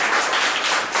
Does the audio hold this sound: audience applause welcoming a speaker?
yes